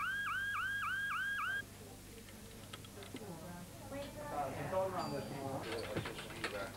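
A jeweller's shop burglar alarm, a rapid warbling electronic tone, repeats for a moment, then cuts off, leaving a quieter room with clicks and a voice talking.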